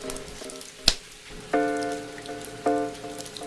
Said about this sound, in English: No, I didn't realize it was going to rain.